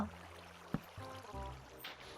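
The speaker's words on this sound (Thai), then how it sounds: "มีน้ำไหลลงมาอยู่ตลอด" Water trickles and flows down in Minecraft, a faint, steady watery wash with a few soft bumps and clicks over it.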